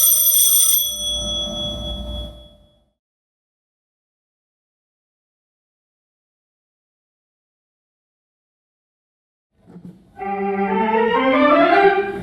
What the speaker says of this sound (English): and a doorbell